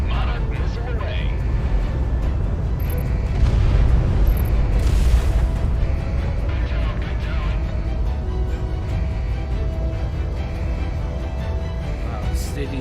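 Deep booming missile explosions rumble from a Project Wingman air-combat sortie over a burning city, a heavy low roar swelling around the middle and rolling on continuously beneath game engine drone.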